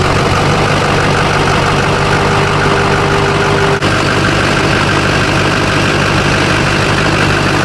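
A Duramax diesel truck engine idles with its stock heads still fitted, a steady loud low rumble and clatter running unbroken throughout, with one brief click midway and no voices.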